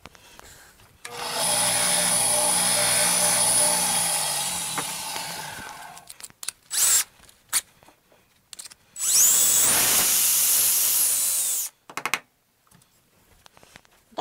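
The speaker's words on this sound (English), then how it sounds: "I'm going to take a drill, I'm going to drill it out, clean it out" A power drill drills out, cleans and then polishes a golf club head in two long, loud steady bursts of whirring, split by a stretch of short clicks and handling noises.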